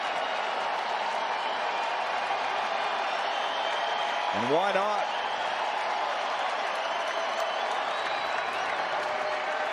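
A baseball crowd applauds and cheers for Shohei Ohtani at an Angels game, a steady roar of clapping filling the stadium while a commentator talks over it.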